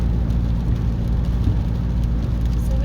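A car drives on a road in Thailand, its steady engine hum and tyre rumble filling the cabin at a constant level, with no talking.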